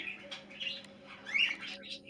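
A small finch gives a few soft, high chirps and tweets in quick bursts, faint and close against a quiet indoor hum.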